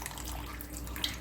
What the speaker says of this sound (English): I'm going to add this tamarind water marinated into it, and I'll allow the tamarind water to cook well